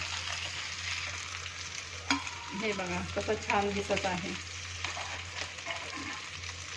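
Steady oil sizzle of fish frying in a pan, loud and close, with a person talking over it and a few utensil clinks.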